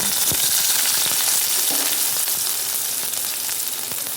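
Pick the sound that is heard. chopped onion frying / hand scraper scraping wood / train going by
chopped onion frying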